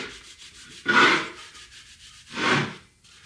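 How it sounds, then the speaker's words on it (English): A Scotch-Brite pad is rubbed across the bearing and seal surface of a Toyota IFS front hub in two loud, separate abrasive strokes, close up, with no talk. "I really do like to hit that with Scotch-Brite on this surface where the bearing side"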